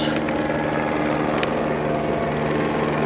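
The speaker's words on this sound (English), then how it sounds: "we're getting another buzz. Another flyby." An aircraft buzzing overhead near a parked RV, a loud continuous engine drone with a steady tonal hum that holds throughout without fading.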